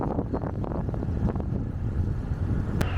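Wind buffets the microphone while cycling along a shaded riverside path beside the Soča (Isonzo) near Gorizia, a loud continuous rumbling roar with gusty surges and no talking.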